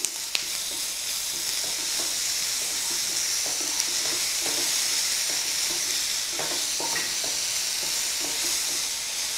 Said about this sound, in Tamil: இஞ்சி பூண்டு பேஸ்ட் சேர்த்து நல்லா வதக்கணும்